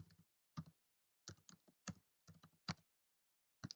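Quiet, close typing on a computer keyboard, irregular bursts of key clicks separated by short pauses while entering text in Canva.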